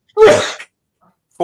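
A single loud sneeze close by, sharp and brief, followed by silence and the start of a voice at the end.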